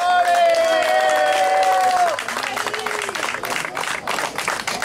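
Audience applause at a rally podium ceremony, a steady wash of clapping and crowd noise rising after a tonal music cue fades, with a voice speaking over the top.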